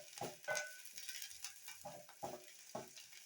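Onions frying in a pan until golden brown, with a soft sizzle under rhythmic scraping stirs that come roughly every half second, close and quiet.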